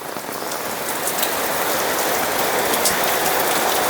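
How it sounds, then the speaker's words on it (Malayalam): Steady summer rain pours down evenly across a surface, a dense hiss of drops with no voices, close and fairly loud throughout. "മനോഹരമായ മഴയാണ് കാലത്ത് തന്നെ അല്ല കാലത്തന്നെ മഴ വേനൽ മഴ"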